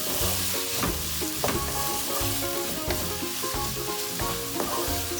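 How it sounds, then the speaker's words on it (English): Onions sautéing in a pan for anda keema, a constant sizzle with stirring scrapes, heard under steady background music with no voices. "Saute it really well."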